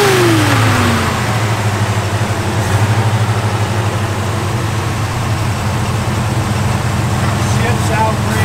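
A 1969 Chevrolet Nova engine fitted with Hedman ceramic headers revs and then settles into a loud, rumbling idle close by, with a person talking under the engine noise.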